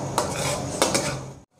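Masala being roasted and stirred in a pan on a gas stove, with a spoon scraping and clinking against the metal in a few sharp strokes over a steady low frying hiss; no talking.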